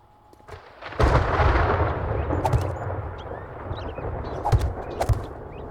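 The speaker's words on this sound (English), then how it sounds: "That thunder rattling, I think, covers up the noise I'm making." Thunder rumbling in the survival video game 7 Days To Die, a loud broad crack at the start followed by a long rolling rumble with a few sharper bursts, no speech over it.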